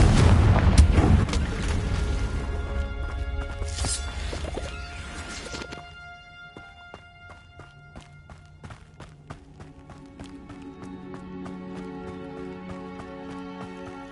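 A Confringo fire spell explodes in Hogwarts Legacy, a loud booming blast with crackling debris in the opening seconds that fades under layered game music.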